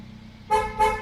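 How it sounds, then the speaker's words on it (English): A tractor horn sounds two short, loud honks in quick succession with a brief gap between them, over a low idling engine rumble. "But we've got a horn."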